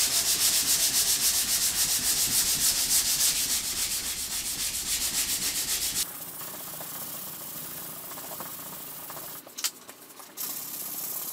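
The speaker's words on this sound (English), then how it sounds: "Now we're going to move on to the 180 to start taking out these scratches and to smooth everything" Car body filler being hand-sanded with 180 grit sandpaper during a bodywork repair: steady, close, rasping back-and-forth strokes that soften halfway through, with a couple of brief knocks near the end.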